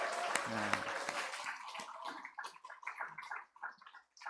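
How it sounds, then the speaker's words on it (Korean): An Easter Sunday church congregation claps and cheers for its children, a burst of applause with a few loud shouts that quickly thins out into scattered claps and murmurs. "우리 환호성으로 박수하겠습니다"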